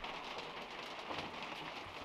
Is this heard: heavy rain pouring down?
yes